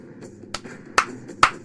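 A few sharp, single hand claps ring out one by one with short gaps between them, the last two the loudest, close to the mic over a quiet background.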